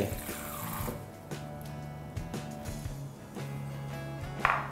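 Water running from a tap into a sink to soak wilted mint and coriander leaves for a Thai bitter gourd and prawn salad, a steady close flow with faint clinks and a brief splash near the end.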